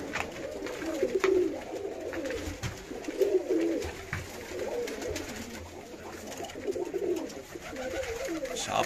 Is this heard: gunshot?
no